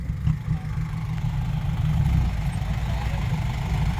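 A tractor's steady, low engine rumble idles and strains continuously while pushing a stuck vehicle, heavy and close, with faint voices in the background.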